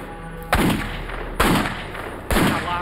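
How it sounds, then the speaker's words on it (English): Three loud .357 Magnum revolver shots fired into woods outdoors, spaced about a second apart, each a sharp crack followed by a decaying echo. "he took a .357 Magnum and started to fire into the woods"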